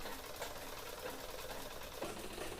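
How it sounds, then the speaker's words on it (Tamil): A sewing machine stitches around a garment neckline, a faint, steady whirring run of needle strokes carrying on without a break for a couple of seconds. "நெக்கு தைச்சி கம்ப்ளீட் பண்ணியாச்சு"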